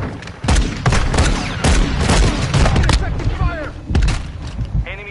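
Call of Duty gameplay gunfire: a burst of loud, sharp shots and booming thuds in quick succession, layered with game effects and mixed under excited talking.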